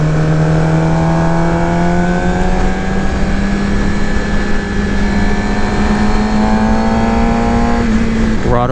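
A 2018 Suzuki GSX-R600 motorcycle engine revs during a ride, its loud, steady, close-up drone holding pitch with a smooth harmonic whine, then dipping at the very end as the throttle eases.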